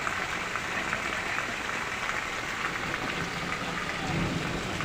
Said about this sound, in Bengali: আর এদিকে দেখুন পুরো বৃষ্টি হচ্ছে।